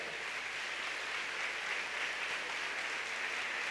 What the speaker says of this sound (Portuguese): dê um aplauso bem forte ao Senhor